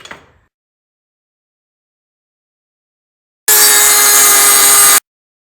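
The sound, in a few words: cutting off a metal bracket from a brake caliper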